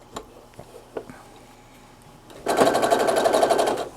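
Sewing machine stitching fabric onto a soft Minky blanket, a few light clicks first, then a steady fast rattling run of stitches, close and loud with no talk.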